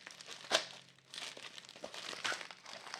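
A small paper envelope being opened up close, with soft crinkling and rustling and one sharper crackle near the start, then continued quiet handling of the paper.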